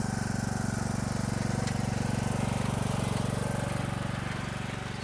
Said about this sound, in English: I might as well just take the lawnmower and mow while I'm at it.